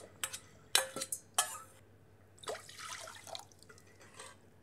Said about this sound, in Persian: شستم و اونو توی قابلمه میریزم همراه با 2 پیمانه آب.